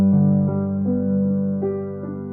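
A piano plays an arpeggio, moving from D down to B. Sustained, ringing notes change every half second or so at a moderate, even volume, with no voice.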